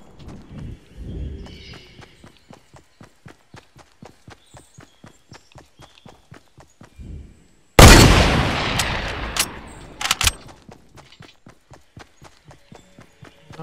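Gunfire in the video game Fortnite: a sudden loud burst of shots and an explosive blast erupting midway through a long run of steady, regular hoof-like footsteps, with a few sharp cracks following before the footsteps resume.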